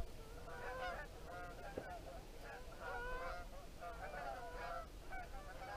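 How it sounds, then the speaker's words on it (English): A flock of Canada geese honks while flying on a September evening, repeated overlapping calls in loose bursts, fairly faint and distant against a quiet outdoor background. "A lot of geese here now"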